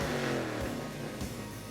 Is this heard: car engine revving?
yes